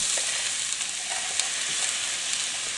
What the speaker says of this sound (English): And now I've got a saute or a stir fry of sesame oil, onion, and shrimp